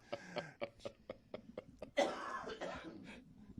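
A run of short, quiet coughs in quick succession, ending in a longer, harsher coughing burst.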